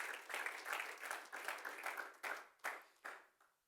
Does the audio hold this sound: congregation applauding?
yes